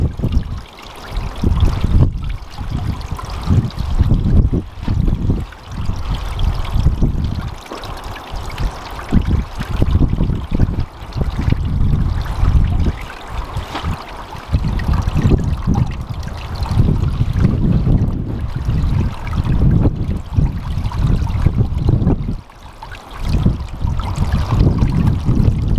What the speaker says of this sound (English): You can see it's dripping into the mini pond as it is.